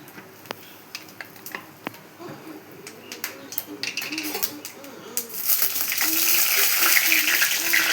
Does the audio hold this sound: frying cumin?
yes